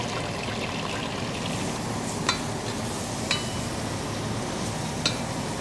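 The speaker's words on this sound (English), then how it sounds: "We're gonna put in the shallots and fry it till it's fragrant" Shallots frying in hot oil, a steady soft sizzle with a few brief crackles and pops, close and moderately quiet, no talking.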